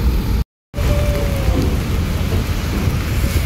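Steady light drizzle hisses continuously across the whole stretch, with a brief total dropout near the start before the downpour noise resumes.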